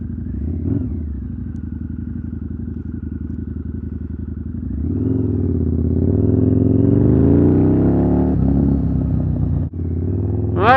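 A 2022 Harley-Davidson Nightster motorcycle engine runs loud and close with a steady throbbing idle, then swells into a stronger rev around the middle before settling back, with a brief clatter near the end.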